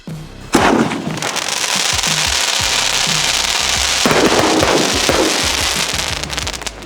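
A Rock and Roll sky shot firework goes off outdoors, a loud sharp blast followed by seconds of dense crackling bursts and pops, with a second surge of crackle midway.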